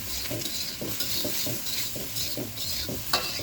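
Carrots, peas and sliced green chilies stir-fried in a pan, a continuous sizzle broken by rhythmic spatula scrapes and stirring strokes about every half second, close and without speech.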